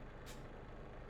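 Air brakes on a truck in a PC truck simulator with the ProMods map let out a short, faint hiss when the handbrake is applied, over a steady engine drone.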